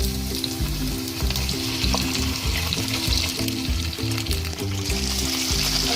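Chicken pieces frying in hot oil with ginger garlic paste, green chilies and golden browned onions for a restaurant-style biryani, a loud steady sizzle with stirring clatter throughout, no voices.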